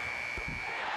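A shot clock buzzer sounds in a crowded NBA arena during a 1993 Western Conference Finals game between Seattle and Phoenix, heard as a steady tone held over the whole moment amid crowd noise.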